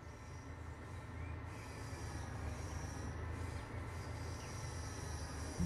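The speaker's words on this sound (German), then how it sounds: "Da fährt sie, unsere BR 365." A DB class 365 locomotive drives in the Train Sim World 3 video game, giving a steady, fairly quiet rolling rumble of wheels and rail that continues on its own without a voice.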